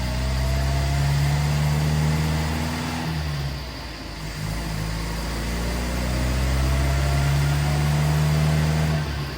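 A Weber-carbureted engine runs steadily during a tuning run, a loud continuous mid-pitched drone with strong low harmonics, dipping briefly midway before settling back to a steady, lean-sounding hum, with no voices.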